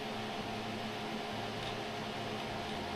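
A steady blower fan hums continuously in a boat's engine room during a marine engine startup check, a constant broadband whir with a low tonal drone and no pauses.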